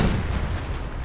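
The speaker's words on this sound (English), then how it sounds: "Panzerwerfers continue to werf their rockets." Panzerwerfer rocket artillery in Company of Heroes 2 fires as a dense, loud rumble of launches and blasts. The burst is short and continuous, with faint voices underneath.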